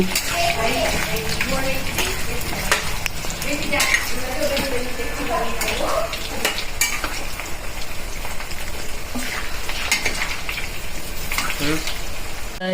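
Potato pieces sizzle and crackle in hot frying oil in a pan for a Punjabi sabji, a steady dense spatter with occasional utensil clinks, heard without talk.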